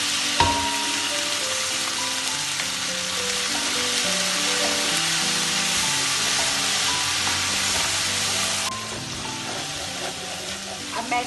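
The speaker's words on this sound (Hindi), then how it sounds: "अब मैं इसमें ये लहसुन अदरक डाल दूँगी।" Garlic and ginger sizzle loudly in hot oil with onions for a beef pulao, a steady close frying hiss with faint stirring, the sizzle dropping slightly near the end.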